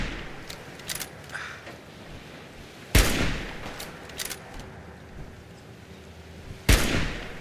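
Gunfire in the Fallout 4 video game: two loud, sharp single shots several seconds apart, with fainter distant pops and crackles scattered between them over a low background ambience.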